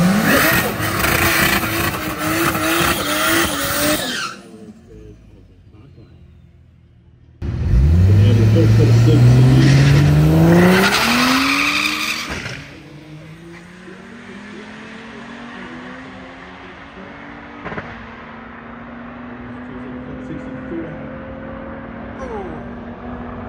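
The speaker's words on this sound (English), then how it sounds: "heaps of wheel spin off the line there" A bagged Ford FG launches at a drag strip with heavy wheel spin, loud engine revving climbing in pitch, then the car fading into the distance as quieter track ambience and voices continue.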